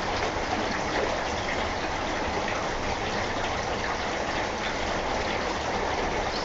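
Steady, dense rain from a North Texas Texoma thunderstorm squall line, an even, unbroken wash of hiss that holds at a constant level throughout with no voices.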